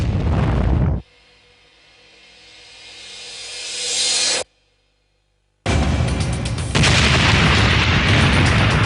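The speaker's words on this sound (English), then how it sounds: "El Al 1862 smashes into the 6th floor of the 11-story apartment block." Passenger jet El Al Flight 1862 crashing into an eleven-story apartment block: a loud booming impact, then a rising roar that cuts to silence before a second sustained, heavy explosive rumble.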